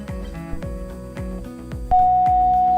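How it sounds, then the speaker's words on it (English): Low fuel warning chimes in a Cessna Caravan ring out as a series of repeated electronic chime tones over steady engine and cabin drone, followed by a sustained continuous warning tone near the end. "When the fuel gets low, this is the sound in the Cessna Caravan."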